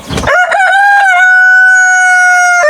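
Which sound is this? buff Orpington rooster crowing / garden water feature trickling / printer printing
buff Orpington rooster crowing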